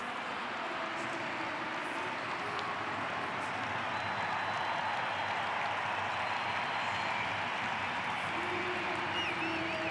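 Record crowd of about 44,000 at a women's DFB-Pokal cup final football match, Wolfsburg against Freiburg, creating a constant loud stadium roar of clapping and cheering that builds as the home side attacks, with no talk over it.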